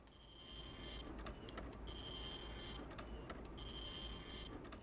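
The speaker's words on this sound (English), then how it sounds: "That printer sound effect is just never going to get annoying at all, I'm sure." Printer sound effect from the video game Clock Tower, a steady mechanical whirring that cycles in repeated passes with brief pauses between them, continuous and fairly loud for the whole stretch with no talking.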